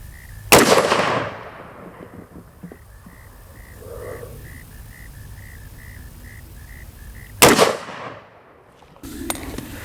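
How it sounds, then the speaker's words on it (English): An AR-15 pistol fires two loud, sharp shots outdoors during sighting in of a Sig Romeo 5 red dot, several seconds apart, each ringing out in a long echoing tail over a quiet background. "let's go ahead and put 2 shots downrange onto the castle"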